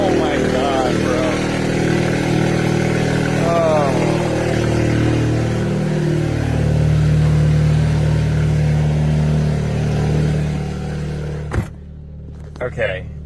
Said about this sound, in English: cold starts are very loud in any car, but it should quiet down here in a second